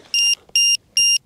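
A battery low-voltage alarm on a PZL TS-11 Iskra aircraft in the Aircombat 3D simulator gives three short, shrill electronic beeps in a quick, even rhythm, clear and fairly loud against near silence.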